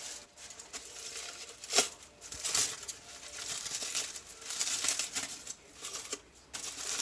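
A plastic bag lining a sink crinkles and rustles in irregular close bursts while a tumbler is stripped, quiet overall with occasional sharper crackles.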